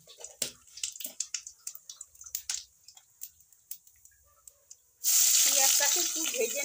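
Cumin seeds hit hot oil in a pan for a shrimp and taro dish, bursting into a loud, steady sizzle after a series of faint clicks and taps from the kitchen.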